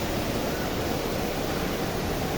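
Small decorative water fountains splash steadily inside a shopping mall, a continuous even hiss of falling water with no distinct events, close and moderately loud throughout.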